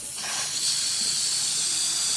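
The steam wand on a Breville BES870XL espresso machine hisses loudly and continuously at close range, a bright, steady jet of steam with no voices.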